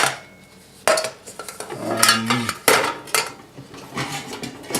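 Metal plates and a large pot from a camping cook set clatter and clink together repeatedly, close and loud, in irregular bursts of rattling cookware.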